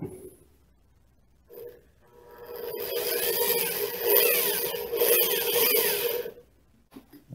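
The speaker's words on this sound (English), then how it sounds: "So now I'm going to start with a 2 millimeter pilot bit." A 2 millimeter pilot bit drills a shaft hole in an RC gaff pilot cutter model build, a close grinding whine rising and falling for about five seconds between quiet moments.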